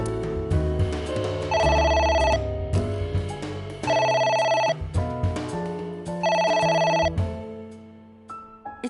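A telephone rings in three long bursts, separated by pauses filled with other busy, layered sound; the rings are loud and close.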